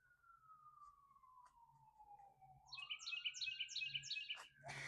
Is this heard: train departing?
no